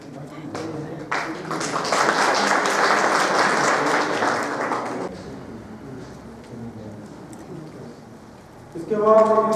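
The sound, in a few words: applause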